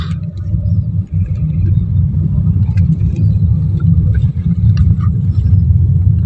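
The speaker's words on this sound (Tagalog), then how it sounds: "Kita na mag-umpisa ang traffic." Car traffic building up on a road between Cavite and Las Piñas makes a steady, close, continuous engine rumble with no voices.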